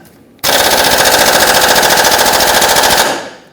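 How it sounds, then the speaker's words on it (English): An impact gun hammers at a stuck 19mm control arm bolt on a 2011-2015 Kia Sorento, a loud, steady rattling burst lasting nearly three seconds before winding down, heard alone. "our bolt is stuck in there pretty good to the point where even the impact gun wouldn't loosen it"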